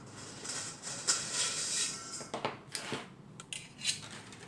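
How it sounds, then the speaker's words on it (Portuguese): Thin wire is cut with the cutting edge of pliers while making a small carnival sunflower prop, giving sharp metallic snips and clicks in an irregular sequence amid light handling noise. "Essa partezinha aqui, nós vamos cortar o arame."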